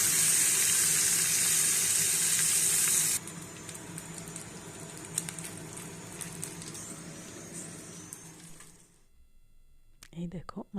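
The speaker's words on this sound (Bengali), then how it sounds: "মাছের মাথাটাও বেশ কড়কড়ে করে ভাজা হয়ে গেছে" Fish head crisp-frying in hot oil in a pan, with a loud steady sizzle that drops lower after a few seconds and keeps crackling, then fades to near silence before a few brief clatters at the end.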